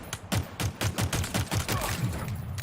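Rapid hip-fire gunfire in the shooter game Outriders, a steady rhythmic burst of close, punchy shots, about four per second, with a faint voice underneath.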